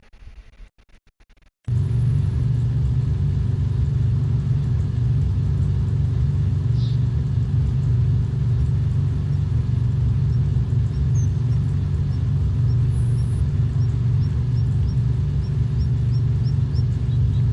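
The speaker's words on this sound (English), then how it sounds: "Now I can hear that truck when I have a menu open" Farming Simulator 25 truck on PS5: a steady, loud low engine rumble that kicks in abruptly after a short quiet start and holds unchanged, with faint small clicks now and then.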